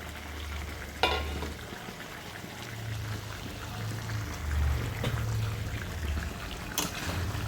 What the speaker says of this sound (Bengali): এখন টমেটোগুলো দিয়ে দেব